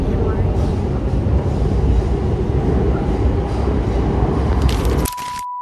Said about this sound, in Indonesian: Kita sekarang lagi ada di MRT.